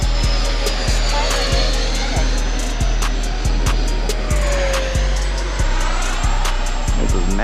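A group of radio-controlled model jets flying together overhead, their turbines giving a continuous loud whine that rises and falls as they pass, with wind buffeting the microphone in regular thumps.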